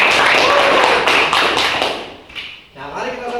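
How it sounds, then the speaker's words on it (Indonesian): Classroom applause for a student named Nelinda, a burst of claps and taps that fades after about two seconds as a teacher's voice picks up. "Tepuk tangan untuk Nelinda."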